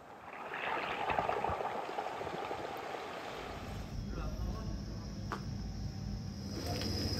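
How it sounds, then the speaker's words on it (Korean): Waves break and wash over round pebbles on a beach in Samcheok, Gangwon Province, South Korea; the pebbles roll and clatter in a continuous watery rush close by. "부서지는 파도에 움직이며 소리내는 동그란 돌멩이들."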